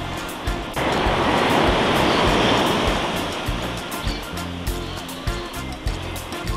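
Sea waves crash and wash onto a beach in Costa Rica, a loud, close roar of surf that rises and then ebbs into a rushing hiss, with no voices.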